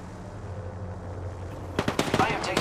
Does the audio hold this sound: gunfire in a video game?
yes